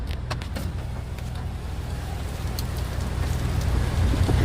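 Rain falls steadily on a parked car, a constant dense patter with occasional sharper drop hits, close by and growing slightly louder toward the end.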